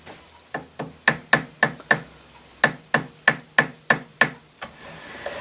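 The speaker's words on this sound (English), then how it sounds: "just with your brass hammer and the screws slightly tight, snug" A brass hammer taps metal, adjusting a milling attachment on an Atlas lathe, in two quick runs of sharp, ringing strikes, about a dozen in all, close and clear with short pauses between.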